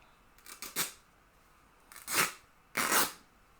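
Scissors cut through material for a no-sew Christmas ornament in a few quiet, close snips: a small cluster of short cuts, then two separate crisp snips.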